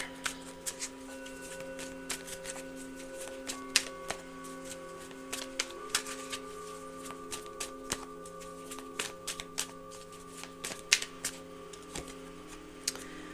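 Index cards being shuffled and handled, producing quiet, irregular papery flicks and taps spread across the stretch, faint against a steady low hum, with no voices.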